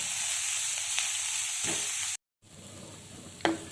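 Beetroot pieces with a spoon of salt sizzle steadily in a hot pan, with soft scraping of stirring; a brief break, then the frying resumes with a sharp spoon clink near the end.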